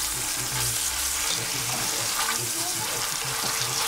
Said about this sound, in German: dass wir das auch hier wirklich an allen Seiten ein bisschen anbraten können